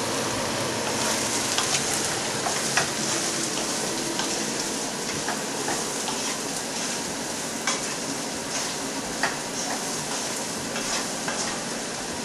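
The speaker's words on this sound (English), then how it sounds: "Stir it up a bit such that it reduces in size before you add any other ingredients." Salted aubergines being stirred in a pan, giving a loud, steady sizzle and crackle throughout, with repeated scraping strokes of the spoon against the pan and no voices.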